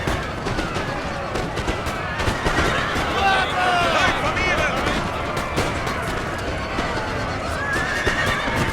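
Cavalry horses neigh and whinny repeatedly amid hoofbeats and scattered musket gunfire in a Napoleonic battle video game, a dense, busy battlefield mix running throughout with a voice talking over it.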